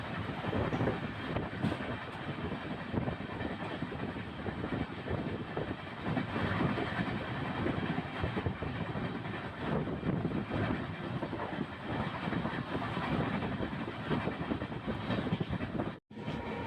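The Mysuru-Shirdi Express runs through Ajjampura railway station at over 120 km/h, heard from on board as a loud, continuous rumble and rattling clatter with a brief dropout near the end.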